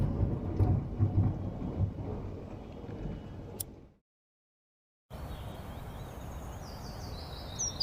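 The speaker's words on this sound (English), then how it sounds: "we're having our first spring thunderstorm" A spring thunderstorm rumbles with low rolling thunder over steady rain, moderately loud, then the sound cuts to a second of silence before rain and hiss return with faint higher tones.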